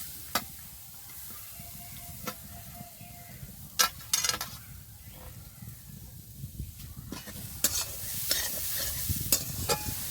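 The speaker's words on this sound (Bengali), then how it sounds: "কড়াই গরম হয়ে গেছে দিয়ে দেবো নারকেল" Grated coconut stirred in a hot wok for a sweet filling, with steady soft sizzling and repeated scraping clicks of a spatula against the pan, close up and without talk.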